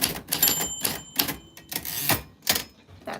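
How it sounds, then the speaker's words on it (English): Keys of a 1940s manual typewriter strike in quick clusters, a burst of sharp clacks tapping out a name, close and crisp with short pauses between groups. "that is what your name sounds like, Michelle, on a typewriter from the 40s"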